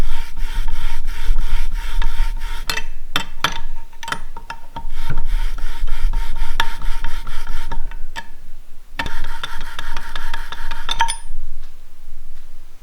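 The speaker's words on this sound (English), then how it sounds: "I'm just going to kind of work this bolt around and back and forth and let that grinding compound kind of do its work" A bolt worked back and forth with grinding compound on a damaged cylinder head cam journal, giving a continuous close gritty rubbing and rasping with small metallic clicks and brief pauses.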